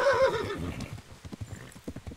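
A horse whinnies loudly in the video game Kingdom Come: Deliverance, then hooves clop in a quick, steady galloping rhythm, close by.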